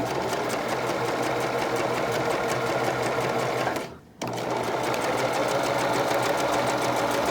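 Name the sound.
sewing machine stitching the side seams of a knit dress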